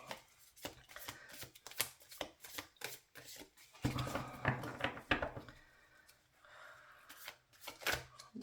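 Tarot cards being shuffled and drawn by hand, a close series of quick riffling bursts and soft slaps with short pauses between, fairly quiet with no talking.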